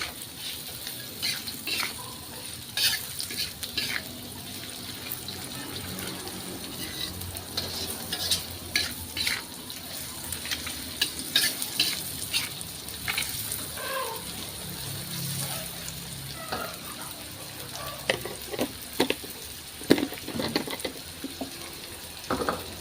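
Carrots sizzle in a pan while being stirred with a spoon, a steady hiss of frying under repeated scraping and clinking strokes, close and fairly quiet throughout.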